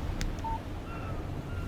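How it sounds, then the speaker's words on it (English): A short electronic notification tone from a phone in the Alan Wake Remastered game, a few brief beeps sounding faintly over a low ambient hum. "Text message from Barry."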